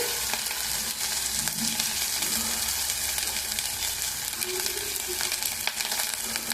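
Curry leaves and a large chopped onion sizzle and crackle steadily in hot oil for north-style guguni, a constant close frying hiss with occasional stirring, no voices.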